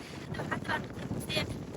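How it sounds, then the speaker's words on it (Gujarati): Strong wind gusts across the seashore during crab fishing, a steady broadband rush with buffeting bursts that rise and fall close to the microphone throughout. "બહુ પવન છે"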